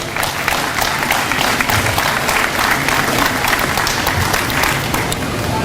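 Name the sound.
applause at Degelman open house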